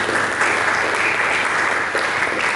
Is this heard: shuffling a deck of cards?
no